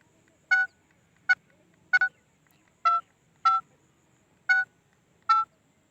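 Telephone keypad tones as a number is dialed, seven clear, separate beeps in an uneven rhythm, close and distinct against a quiet background with no speech.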